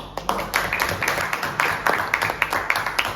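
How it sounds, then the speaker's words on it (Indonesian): An audience applauds for Bu Vidya with scattered, fairly light hand claps in an irregular patter that continues steadily throughout. "Sekali lagi tepuk tangan buat Bu Vidya."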